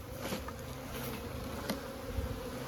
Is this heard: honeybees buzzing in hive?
yes